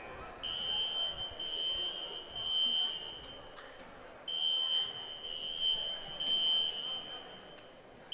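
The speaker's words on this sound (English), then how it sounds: "Pulled up right when the fire alarm's going off." A fire alarm sounds inside a basketball gym: high electronic beeps in repeated bursts with short gaps, loud and echoing over a low murmur of room noise.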